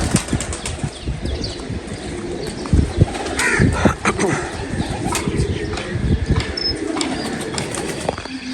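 Pigeons in a loft, including a 14-year-old female parwazi pigeon, make soft cooing and rustling sounds, with wing flaps and shuffling close by over a busy background of low bumps and bird noises.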